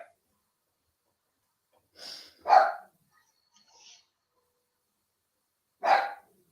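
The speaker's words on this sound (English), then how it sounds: "Let's go and shut the dog up before she wakes the neighbour." Dog barking at night, a few sharp, fairly close barks spaced out across quiet stillness, a pair of quick ones followed by a lone bark after a pause.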